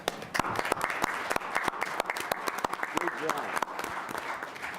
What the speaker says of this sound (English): I just want to give a huge round of applause to Janet for doing that.